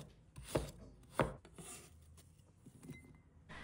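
A knife cuts a piece of fresh ginger into slices on a chopping board, giving two distinct, fairly loud chops and a few softer cuts. The sounds are spaced out and close, with no talking.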